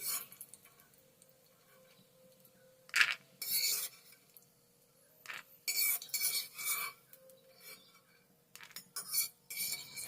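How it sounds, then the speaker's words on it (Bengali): Fried peanuts scooped out of a wok with a metal spoon give scattered clinks and scrapes in short bursts, close and distinct, with no talk and quiet gaps between. "এবার আমি এগুলোকে কড়াই থেকে তুলে নিচ্ছি।"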